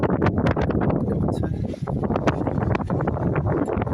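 Steady wind buffeting a microphone outdoors at the seafront, loud and continuous with gusty rushes, no voices heard.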